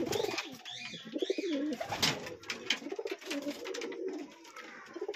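Bangla (desi) pigeons kept on a rooftop farm coo close by in repeated rolling phrases that overlap one another. A few sharper wing or cage noises come through, with no speech.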